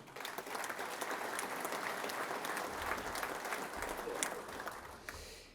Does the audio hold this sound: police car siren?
no